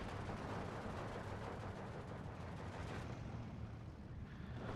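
Soviet IL-2 attack aircraft strafing and bombing units in the World War II strategy game Steel Division 2: a dense, steady wall of rapid cannon fire and rumbling explosions, faint in level and unbroken, thinning slightly toward the end.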